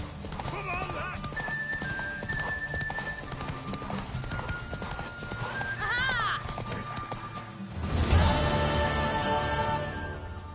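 A horse gallops in The Witcher 3: Wild Hunt, with rhythmic clip-clop hoofbeats and a whinny, under game music and voices talking, swelling louder near the end.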